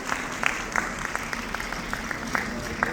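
An audience at a community excellent-student award ceremony applauds award-winning students seated on stage, a dense, even wash of many hands clapping that holds steady throughout.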